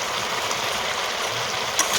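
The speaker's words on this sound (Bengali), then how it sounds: "তো সেজন্য একটু জল দিয়ে দেবো" Water pours into a pan of chicken curry with potatoes as a steady, loud, close rush that runs unbroken for two seconds.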